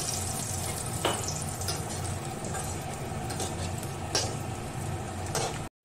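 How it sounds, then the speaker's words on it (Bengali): Whole cardamom and cinnamon spit and sizzle in hot mustard oil for a tempering, a dense continuous crackle close by with a couple of sharper pops, cutting off at the end. "এবার আমি এই সর্ষের তেলের মধ্যে দিয়ে দিচ্ছি এলাচ আর দারচিনি ফোড়নের জন্য।"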